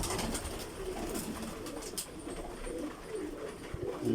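Pigeons in a loft coo softly and repeatedly, low murmuring calls layered over a faint background.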